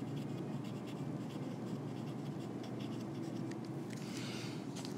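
Faint scratchy strokes of writing on a board during a biology lecture, a quiet intermittent scribbling with no talk.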